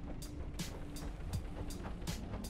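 A helicopter engine starting up in the video game Stormworks, heard as quiet, regularly spaced whooshing bursts over a low mechanical hum.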